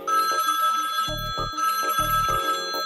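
An electronic phone rings in repeated short warbling bursts, loud and close, with a synthetic melodic pattern.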